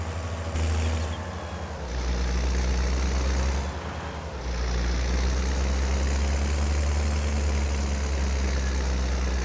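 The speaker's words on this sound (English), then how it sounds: "this tractor is handling this drive like a champ" A tractor engine in a farming video game drones steadily as it hauls uphill, a low continuous hum with two brief dips in level before settling back to a constant strain.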